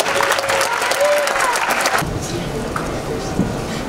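Audience applause for an Italian dance group at an international festival celebration: a loud, dense wave of clapping and crowd noise that tapers into quieter scattered claps and murmuring voices.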